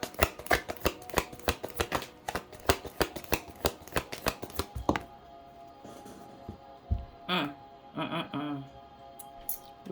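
Tarot cards being shuffled, a rapid, loud run of crisp riffling snaps for about five seconds, then quieter scattered card handling and soft sliding.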